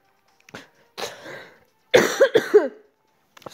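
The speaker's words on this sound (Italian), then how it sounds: "Scusatemi la tosse." A few harsh coughs and throat-clearing bursts from a single nearby person, isolated with short silences between, the loudest cluster in the middle.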